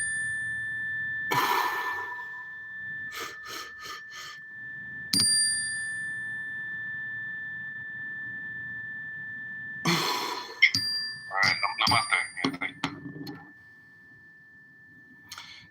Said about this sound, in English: I wanna hit the bell